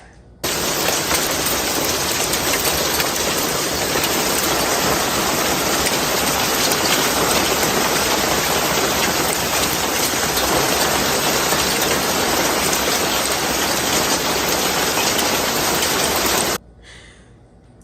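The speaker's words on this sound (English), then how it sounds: "We had this freak hailstorm." A dense, roaring downpour of hail pounds nonstop at close range, a loud, even hiss and patter that cuts off abruptly.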